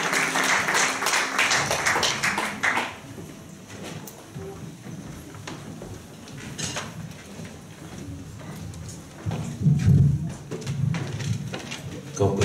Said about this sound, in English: Let's give the Lord a clap offering as Archbishop comes to share with us